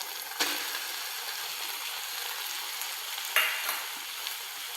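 Spice paste for methi thecha, a fenugreek relish, goes into a hot pan and is stirred, giving a steady soft sizzle with a couple of sharp scrape-and-clack accents from the spoon.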